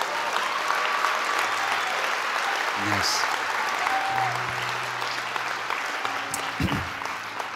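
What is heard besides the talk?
congregation applause in church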